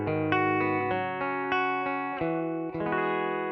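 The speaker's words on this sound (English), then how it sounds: "Here's what the guitar sounds like straight from the ACOUSTASONIC." Clean electric guitar tone from a Fender Acoustasonic Strat, warm single-coil character, with a run of plucked notes and chords ringing out cleanly one after another, played alone.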